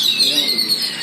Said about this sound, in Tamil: எல்லா குருவிகளும் பாருங்க காலையில் எவ்வளோ அழகாக கத்திட்டு